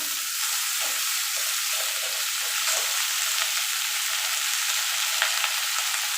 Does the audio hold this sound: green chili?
yes